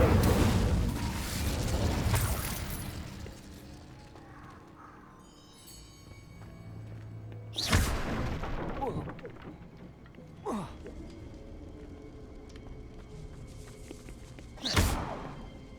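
A fire spell cast in Hogwarts Legacy: a low rumbling burst that fades over a couple of seconds, followed later by sharp whooshing cracks and thuds standing out over a quiet, murmuring game background.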